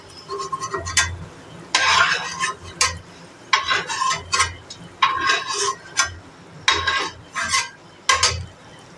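Cashew nuts lifted out of hot frying oil with a metal spoon: a series of sharp scraping clinks against the pan in an irregular rhythm, with light sizzling between strikes.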